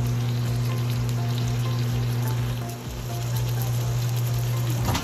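A plant-based patty sizzles and crackles steadily in a hot mini pan, a constant close-up frying hiss over a low electrical hum.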